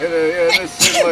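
A single sudden sneeze bursts out during a casual music show chat, loud and close, with someone talking just before and after it.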